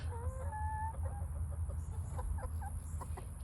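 Chickens cluck and chirp at a backyard coop in short, scattered calls over a steady low hum.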